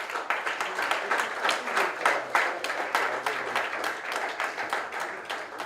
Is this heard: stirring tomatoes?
no